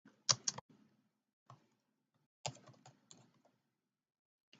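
Keystrokes on a computer keyboard come in a few short bursts separated by pauses, close and fairly quiet, while a full name is typed in as a signature.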